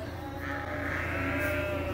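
Sheep and lambs bleat on a spring farm, a faint, distant flock sound over steady outdoor background noise, with no voices.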